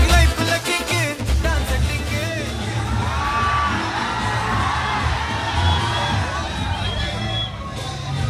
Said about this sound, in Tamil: ஒரு பெரிய கைத்தட்டோட நம்ம ஓ மை கோஸ்ட் மூவி டீமை வெல்கம் பண்ணிடலாம்